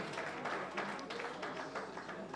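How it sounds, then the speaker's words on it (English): Audience at a proprietors' and principals' education conference applauding, a soft, distant burst of many hands clapping with uneven swells, faint and continuous over a couple of seconds. "please give yourselves a round of applause"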